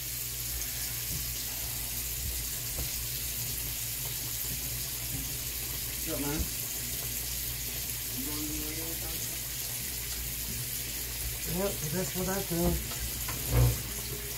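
A kitchen tap runs continuously in the background while soul food dinner is being cooked, a faint steady hiss with someone speaking briefly over it.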